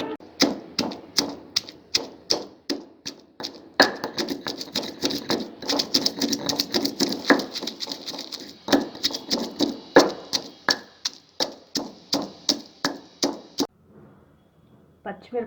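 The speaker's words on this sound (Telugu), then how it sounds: "పచ్చిమిరపకాయలు దంచుకున్న తర్వాత కొద్దిగా చింతపండు, వెల్లుల్లిపాయలు వేసి మరొకసారి దంచుకోవాలి." Green chillies, tamarind and garlic pounded in a stone mortar for a bitter gourd chutney, a steady run of sharp, close thuds repeating about twice a second, briefly quickening mid-way, then stopping near the end.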